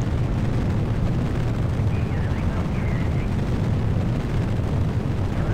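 Rocket engines burning liquid and solid fuel roar during a launch in Kerbal Space Program. The dense, steady rumble runs unbroken throughout, with a voice faintly audible beneath it.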